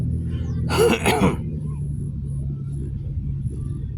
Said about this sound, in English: That man needs some power steering fluid in his car. I can hear it whining,